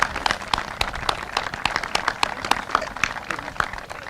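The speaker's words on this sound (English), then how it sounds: "So give Peter a round of applause" Crowd at an outdoor groundbreaking ceremony gives a round of applause for Peter Schwartz, with moderate, scattered clapping that carries on without a break.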